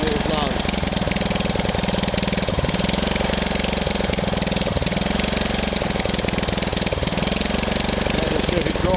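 Murray Hayter M10 30 ride-on mower engine runs steadily throughout, a loud, continuous near idle with a rough, slightly knocking mechanical texture and no pauses.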